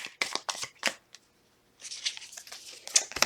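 Tarot cards being shuffled by hand, close and crisp, with a few quick riffling bursts, a short pause, then a longer run of softer sliding shuffles.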